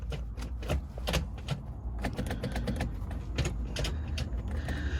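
Hybrid racing shifter in a Toyota MR2 SW20 with a K20A2 swap, clacking through the gears in a series of sharp mechanical clicks and knocks, close up and irregular.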